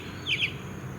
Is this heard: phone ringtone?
no